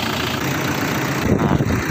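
A Toyota Hilux Tiger pickup engine runs steadily just after a battery replacement, giving a loud, even rumbling drone with a slight rise near the end and no talking.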